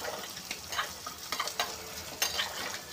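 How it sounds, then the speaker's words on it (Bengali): Malabar spinach and sweet pumpkin curry is stirred in a pan under a low, steady sizzle, with a spoon scraping and tapping the pan in short, irregular bursts. "এখন আবার আমি ঢাকনাটা উঠিয়ে নেড়ে চেড়ে দিচ্ছি।"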